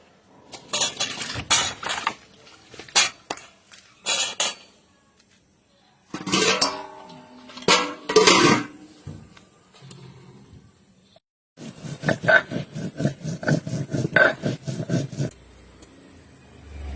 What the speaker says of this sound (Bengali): এখন এই লঙ্কা কটা বেটে নেব।